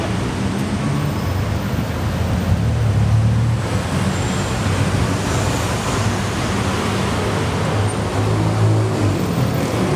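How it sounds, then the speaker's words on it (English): Dense Bangkok street traffic heard from inside a moving tuk tuk, a steady loud roar of engines and road noise with low rumbling surges, continuous throughout with no talking. "Bangkok traffic is no joke."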